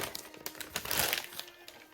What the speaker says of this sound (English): This is a hardback. I'm just unwrapping it.